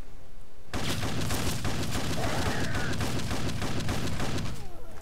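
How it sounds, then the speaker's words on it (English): A grenade explodes in a wasteland survival video game, followed by a long, loud, dense crackle of rapid blasts and debris that rolls on for several seconds before fading. "this fucking grenade exploded in my face"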